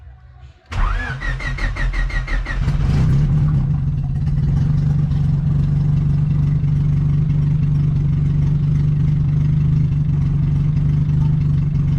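A turbocharged Honda Civic cranks briefly with a whining starter, catches and settles into a loud, steady close idle that holds unbroken to the end.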